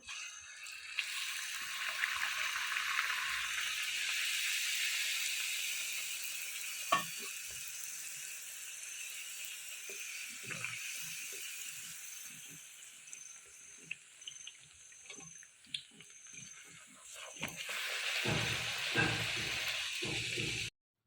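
Something roasting in ghee in an old iron wok hisses steadily, a continuous frying sizzle with occasional scrapes and clinks of a utensil against the metal, close and moderately loud.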